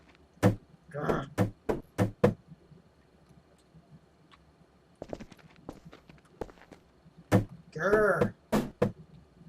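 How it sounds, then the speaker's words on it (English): Footsteps thud across a ceiling in the Kreedz Climbing game as sharp, hollow clacks in short bursts, with a voice growling and talking between them. "the ceiling makes such a weird sound when you walk on it"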